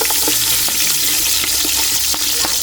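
Onion and ginger sautéing in a hot pan give a loud, steady sizzle up close, with scattered clicks and scrapes from stirring.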